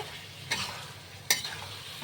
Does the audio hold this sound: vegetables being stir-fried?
yes